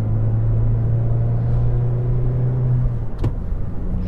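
A Suzuki Swift Sport's engine pulls steadily under moderate acceleration, a close, sustained hum with a brief shift-like dip near the end, no talk over it.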